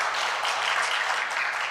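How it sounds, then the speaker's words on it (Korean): Steady crowd applause during a Korean church afternoon service, a dense continuous patter of many hands clapping throughout, fairly loud and without voices on top. "우리 다시 한번 찬양의 이유 되신 하나님께 영광의 박수 올려드리겠습니다"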